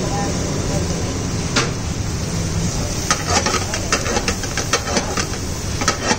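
Garlic and chopped onion frying in Amul butter for a mixed-sauce pasta, a steady sizzling hiss with scattered clicks and clatter from utensils, while people talk nearby.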